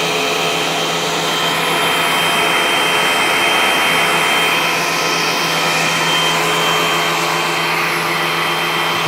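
A thickness planer running as wood boards are fed through one behind the other, giving a loud, steady broadband roar that holds for the whole stretch with no talk.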